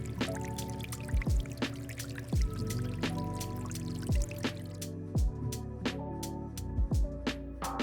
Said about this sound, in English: One of the things I like most about this space is this little water fountain